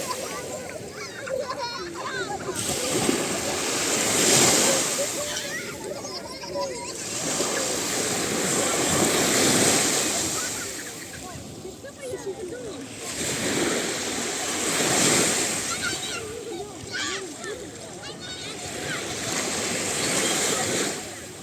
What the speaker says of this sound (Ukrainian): Давайте слухати хвилі і воду